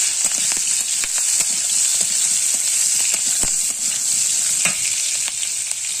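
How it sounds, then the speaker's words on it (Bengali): Sliced potatoes and slit green chillies fry in oil in a pan for a potato and pointed gourd curry, giving a steady, loud sizzle throughout with scattered scraping taps from stirring. "চেরা কাঁচা লঙ্কা, দিয়ে পর একটু নাড়াচাড়া করে নিচ্ছি।"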